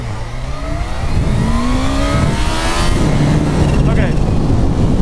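A supercharged Kawasaki Ninja H2 SX SE motorcycle pulls hard in first gear, its engine note rising steadily in pitch through the rev range. The sound is loud and close, with heavy wind rush over it.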